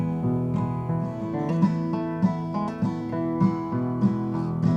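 Acoustic guitar picked in a quick, steady repeating pattern of notes, played solo and up close with no voices, at Camp Eggers in Kabul, Afghanistan.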